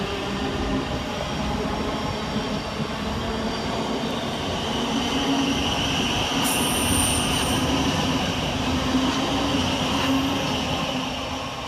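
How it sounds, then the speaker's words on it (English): Govia Thameslink Class 700 electric train pulling out of Three Bridges station, a steady loud rumble of wheels on rail with brief wheel squeal throughout, close by and continuous. "whilst heading off in the opposite direction is 700 124, working the 1040 Govia Thameslink service from Brighton to Cambridge."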